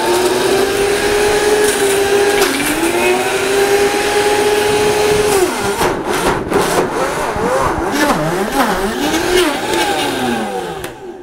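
A blender grinding nuts into nut butter runs loud and close, its motor whining steadily, then dipping and surging in pitch as the speed shifts and the thick mixture bogs and catches, ending with a brief drop-off.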